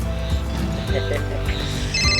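A telephone rings indoors in repeated, steady electronic tones during a Pothwari drama scene, set against a busy background hum and some voices.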